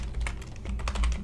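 Rapid keyboard typing of C# code on a computer, a dense run of close, crisp key clatter over a low steady hum, with no talk.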